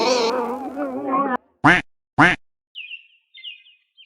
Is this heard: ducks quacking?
yes